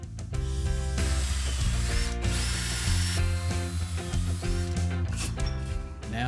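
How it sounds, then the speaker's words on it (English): A power drill whirs in short bursts drilling pilot holes for a wooden box, its motor pitch rising and falling as it bites into wood, close and loud with no talking. "This time I'm drilling pilot holes."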